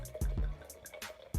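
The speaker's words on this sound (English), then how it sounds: "So let's pour some wine" Wine poured into a handmade cup, heard as a few quick close glugs and drips with small splashes, brief and fairly quiet.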